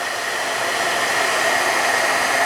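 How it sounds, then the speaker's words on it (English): A heat embossing tool blows hot air in a steady, loud, continuous whoosh, like a hair dryer, with no voices over it. "heat tool have to warm up"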